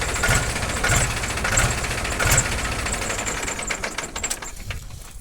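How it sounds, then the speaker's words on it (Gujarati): A Mahindra tractor engine works hard while pulling a harrow across a farm field, giving a close, loud, steady chugging rumble with a rapid rhythmic knock and no voices. "ટ્રેક્ટર ભાઈ દાંતી હાલે."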